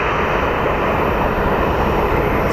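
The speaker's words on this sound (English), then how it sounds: "So let's go take a look at the Contour Aviation Embraer." Contour Aviation Embraer jet at the end of the runway, a steady, loud and broad engine roar that holds constant throughout with no voices over it.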